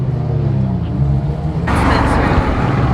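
BMW and Mazda RX-7 cars driving close by on the Pacific Coast Highway, a steady loud road and engine roar that swells sharply partway through, with voices talking over it.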